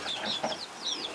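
Bantam and Easter egger chicks in a brooder make soft, rapid peeping and clucking calls, several overlapping chirps close by with no talk.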